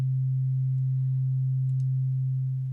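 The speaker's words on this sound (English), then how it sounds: "we're going to try all the Spiricom tones first." A steady low electronic tone from Spiricom-style transmission equipment, held unbroken and loud throughout, with a couple of faint brief clicks near the end as the tone tapers slightly.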